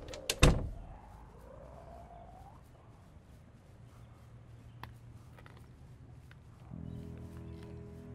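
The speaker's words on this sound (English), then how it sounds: "Shut the door." A door in Project Zomboid slams shut with one sharp, loud thud near the start, followed by quiet ambient game sounds and faint creaks.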